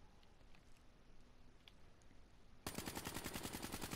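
A full-auto gun in Black Ops 3 opens fire partway through with a sudden, loud, rapid rattle of evenly spaced shots, following a few seconds of faint background ambience.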